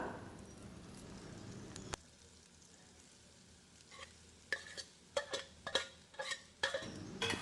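Grated raw plantain being gently stirred and mixed for Tirunelveli-style plantain puttu, with soft scraping and tapping strokes, quiet at first and then a run of sharper, irregular clicks and scrapes toward the end.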